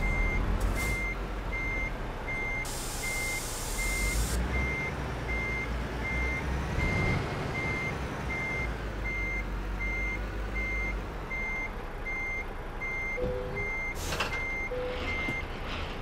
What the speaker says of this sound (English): Take out a reverse, stop that beeping, it's annoying.